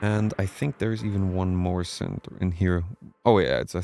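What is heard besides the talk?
No everyday noises stand out.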